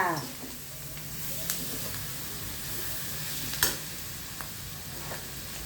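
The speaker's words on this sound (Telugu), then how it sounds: "ఇక ఈ విధంగా బాగా వేగాల." Steady sizzling hiss of ingredients frying in a pan for mutton curry, with occasional stirring scrapes and small ticks, close and continuous, with no talk.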